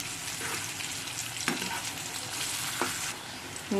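Potatoes sizzle steadily in hot oil, broken by a few sharp utensil clinks and stirring sounds.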